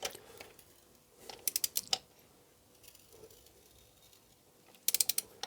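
A ratchet clicks in short rapid bursts while tightening a spark plug on a Rover 75, with quiet gaps between the strokes and no talk.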